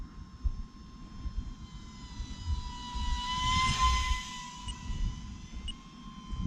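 A small E-flite UMX MiG-15 electric ducted-fan RC jet flies overhead. Its thin, steady whine swells as it sweeps past, with a rising and falling rush of air over a low outdoor rumble.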